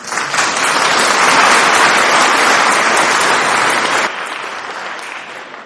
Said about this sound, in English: if the staff could all stand up and we could give them a round of applause